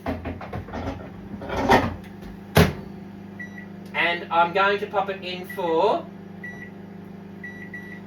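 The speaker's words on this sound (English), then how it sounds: "So I'm going to pop this into my other microwave" A microwave hums steadily nearby as a person talks over it; faint beeps sound near the end.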